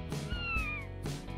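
A cat meows twice, close and clear, each call a rising-then-falling tone with a short pause between, set against quiet room sound in a toy-doll household scene.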